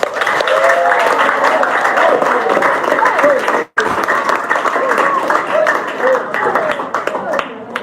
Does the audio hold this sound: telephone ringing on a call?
no